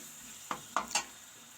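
Onion and tomato tadka cooking in ghee for chickpea saag, a faint low sizzle under three short sharp clicks of a spoon against the pot, close and quiet.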